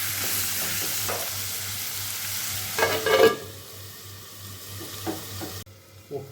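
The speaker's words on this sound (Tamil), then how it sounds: "தக்காளி ஆட் பண்ணிவிட்டு நல்லா ஒரு வாட்டி கிண்டி விட்டுட்டு" Tomatoes frying with onion and ginger in a pan for an egg gravy, stirred with a spoon: a soft continuous sizzle with scraping stir strokes, louder around the middle, then quieter and cut short near the end.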